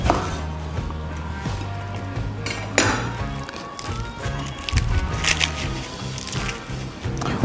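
Repeated knife chopping and crunching of lettuce on a cutting board, uneven rhythm with clinks and knocks, close up with no talking.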